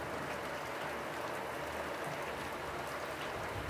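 Heavy rain pours steadily over a farm in Paraíba, a dense, even hiss of water with no breaks, close and constant throughout.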